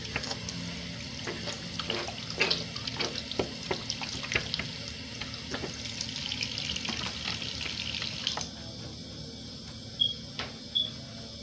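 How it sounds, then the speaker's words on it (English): Hands are washed under a running tap, a close, steady splashing water stream with rubbing and dripping that cuts off near the end, followed by a few faint clicks. "Wash my hands."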